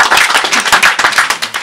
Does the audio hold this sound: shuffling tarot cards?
no